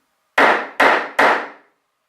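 Three sharp hammer blows on the end grain of a piece of wood, evenly spaced and close, each a loud crack with a short fading ring, no talk.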